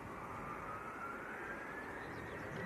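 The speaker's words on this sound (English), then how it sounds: "the Gulfstream is on the roll" A Gulfstream jet rolls down the runway for takeoff at Leeds Bradford Airport, a faint, distant rising engine whine over a steady background rumble.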